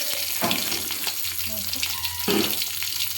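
Curry leaves and dried chillies fry in hot oil, giving a loud, continuous crackling sizzle with brief bursts of spattering, with a voice speaking in the background.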